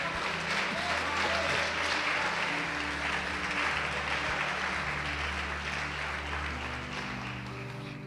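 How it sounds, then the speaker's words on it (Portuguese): A church congregation applauding together, a dense steady wash of clapping over sustained organ or keyboard tones, loud throughout and easing slightly toward the end. "Pode aplaudir o Senhor e glorificar a Deus."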